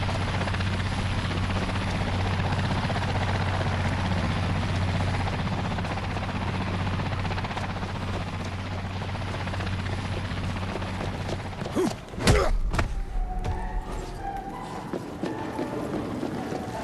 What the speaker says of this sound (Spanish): Ahí va, un helicóptero.